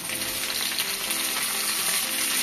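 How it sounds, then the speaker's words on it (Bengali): Potatoes, capsicum and onion sizzling in a pan, a loud, dense, continuous crackle of frying with no talking. "দিয়ে এবার একটু নাড়াচাড়া করবো, ভাজা ভাজা করবো।"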